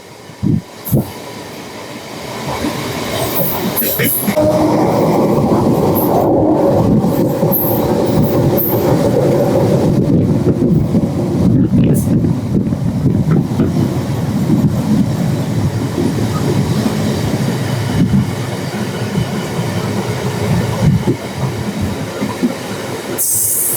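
A Barddhaman to Asansol MEMU passenger train runs along the rails with a loud, steady rumble that builds after a quiet start and continues with faint clatter throughout.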